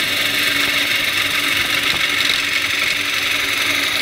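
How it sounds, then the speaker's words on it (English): A wooden bowl spins on a lathe while a half-inch spindle gouge takes a slicing cut. The cutting makes a steady, bright hiss over the machine's hum, continuous and close, with no voices. "which means I'm slicing. I do that with a spindle gouge."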